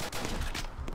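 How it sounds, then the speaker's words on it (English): Gunfire in the Apocalypse Rising game comes as a rapid cluster of loud, close shots packed into about a second, with no voices over it. "Don't know if there's someone shooting at me or not."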